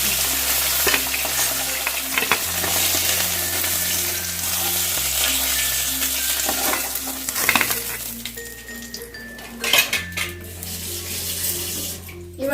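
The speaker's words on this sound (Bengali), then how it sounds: "মাছের মাথাগুলো ভালো করে আমার ভাজা হয়ে গেছে এবার আমি নাড়িয়ে নিয়েছি" Fish heads for muri ghonto frying in a wok, with a constant sizzle and stirring scrapes that grow more prominent toward the end; steady background music runs underneath throughout.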